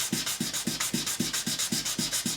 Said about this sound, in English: I've got 7 different grits of sandpaper and one lot of